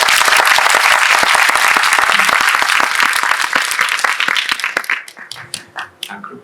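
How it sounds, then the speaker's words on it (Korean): Loud, dense applause from a cinema audience at a film Q&A screening in a Megabox theater, sustained then thinning into scattered claps toward the end. "큰 박수로 한번."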